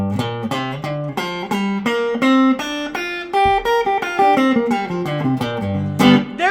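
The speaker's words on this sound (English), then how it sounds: "if we were to do like a simplified blues scale, it would sound something like this" A guitar plays a simplified blues scale as a steady sequence of single notes, climbing and descending at an even pace, clear and close, with no voices.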